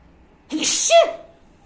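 A single sharp sneeze bursts out against a quiet room, short and loud, with a quick voiced tail at the end.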